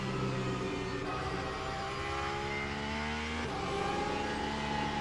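A Porsche race car engine in Le Mans Ultimate drones steadily, its pitch climbing through the gears with shifts around one and three and a half seconds, loud and constant with no talk.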